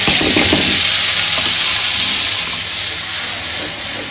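Chickpeas go into a pan of fried-down spice paste, setting off a loud, steady sizzle and hiss that stays close and fades slightly toward the end.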